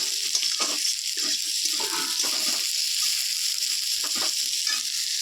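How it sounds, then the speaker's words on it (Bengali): Chopped garlic sizzles steadily in hot oil for homemade chowmein, a continuous bright crackling hiss close by with faint clattering underneath and no talking. "এই যে রসুন কুচিটা দিয়ে দিলাম এগুলি যখন একটু ভাজি ভাজি হয়ে যাবে"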